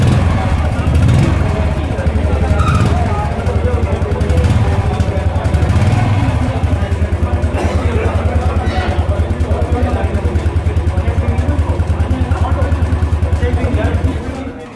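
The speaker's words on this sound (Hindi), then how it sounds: "ये थी बाइक के एग्जॉस्ट की साउंड, ये ओरिजिनल एग्जॉस्ट की साउंड थी" A Royal Enfield Bullet Classic 350 BS6 motorcycle idles with its original exhaust, a loud, close, steady low thump that keeps a regular rhythm throughout, with a few light throttle blips early on.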